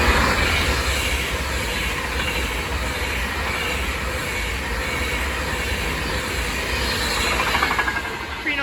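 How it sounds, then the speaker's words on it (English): An Avanti West Coast Class 390 Pendolino electric train roars past close by at Stafford, a loud sustained rush of wheels and rumble with a high whine riding over it throughout. "The next train to pass by is going to be an Avanti West Coast Class 390 Pendolino."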